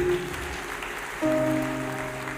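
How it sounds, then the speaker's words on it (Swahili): An audience claps for Wakamau at a church gathering led by Bishop Ben Kiengei, a moderate wash of applause under a steady tonal hum. "Pigieni Wakamau makofi mazuri."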